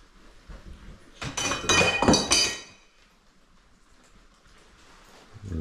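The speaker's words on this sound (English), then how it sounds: "And a piece of glass fell off the door." A piece of glass falls from a door in an abandoned farmhouse, giving a short cluster of sharp clinks and knocks at close range, followed by quiet room tone.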